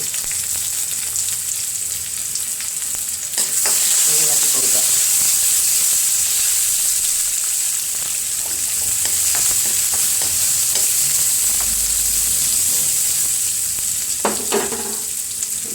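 Steady hissing sizzle of food frying in hot oil, with brief stirring clatters and scraping around the middle and near the end.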